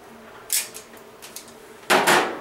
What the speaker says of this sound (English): Then take your crimping tool, push the wires into the back, into the crimping tool.